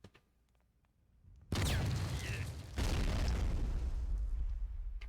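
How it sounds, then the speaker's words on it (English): Two grenade explosions in a military shooter game: after a quiet start, a sudden loud boom erupts, then a second blast follows about a second later, trailing into sustained rumbling debris. "I'm gonna just fire in a few grenades, try and kill them"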